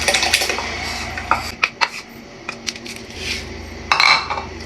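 Washed glutinous rice is tipped into a pot for ginataan bilo-bilo, giving close scraping and clinking of utensils against metal with a few sharp taps and rustling pours, moderately loud with no talk.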